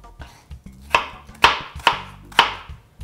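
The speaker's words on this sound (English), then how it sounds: "take your apple, slice it into chunks, and I would slice it again" Knife chopping an apple into small pieces on a cutting board, several sharp knocks at an uneven rhythm, close and clear with no talking.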